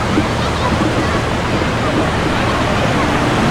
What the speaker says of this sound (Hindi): आप भी इन्हें देखिए, लहरों को,